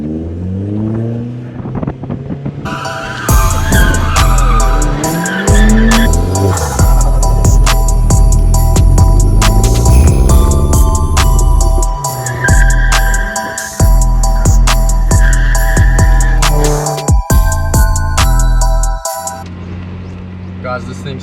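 A 2007 VW Polo 9N3 GTI with a modified turbo engine revs hard and loud up close, with repeated throttle blips and chattering turbo flutter between pulls, and a voice briefly at the start.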